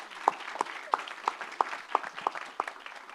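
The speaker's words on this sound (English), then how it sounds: "please give her a round of applause for dealing with a lot of crazy" An audience claps at a policy summit, a short, fairly thin round of distinct hand claps that sound close and somewhat sparse rather than a full roar.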